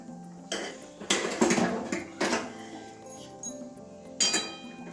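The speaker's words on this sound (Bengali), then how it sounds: "ঢাকনা তুলে দিচ্ছি" A metal lid is lifted off a pot of boiled green bananas, producing several close clinks and clatters of cookware in bursts, with quieter handling between them.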